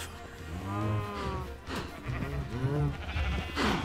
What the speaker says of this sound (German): Und jetzt kümmern wir uns um die Schafe.